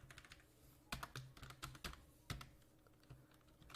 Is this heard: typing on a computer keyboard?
yes